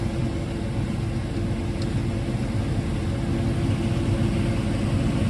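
A farm vehicle's engine rumbles steadily while harvested corn is unloaded, a dense, constant low drone with no breaks, fairly loud and close.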